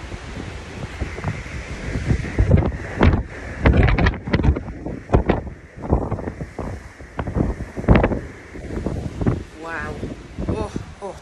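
Strong wind buffets a microphone on the open deck of the cruise ship Celebrity Silhouette in rough October seas off Dover, gusting loudly and continuously while someone talks over it.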